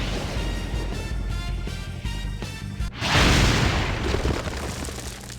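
A sudden loud gunshot blast in the video game Trauma Team cuts through steady game music and rings out with a broad, noisy burst that slowly fades.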